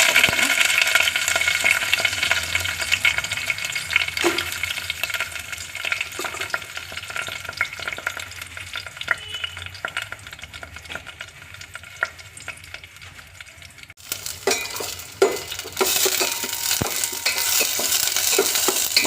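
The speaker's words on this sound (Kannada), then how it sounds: "ಇವಾಗ ಇದಕ್ಕೆ ಒಗ್ಗರಣೆಗೆ ಸ್ವಲ್ಪ ಈರುಳ್ಳಿ ಮತ್ತು ಕರಿಬೇವು" Onion and curry leaves crackle and spit in hot oil for a tempering, close and loud. The sizzle is broken by frequent stirring scrapes, with a sudden burst of louder frying near the end.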